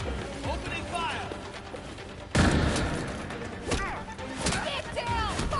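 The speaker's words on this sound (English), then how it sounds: "Opening fire." Gunfire in the Gotham Knights game on PS5: a loud burst of shots breaks in partway through and further bangs follow, with shouted voice lines and battle noise throughout.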